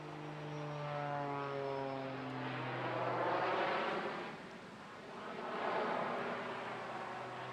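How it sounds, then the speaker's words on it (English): Jet-powered biplane flying display at the Bournemouth Air Festival, its engine roar swelling and fading in two broad passes, with a falling tonal whine early on over a steady, distant rushing drone. "Just unnatural to get jet noise from a biplane."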